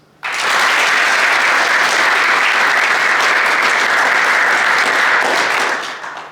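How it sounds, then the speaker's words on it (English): Loud, dense applause from soldiers at a military graduation ceremony, starting abruptly and holding steady for about six seconds before starting to fade. "please give your loved ones a round of applause"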